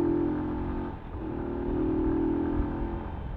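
Earl 150 motorcycle engine held at a steady, loud rev with a brief dip around one second, as during a clutchless upshift at mid to high RPM, then climbing again; no talking.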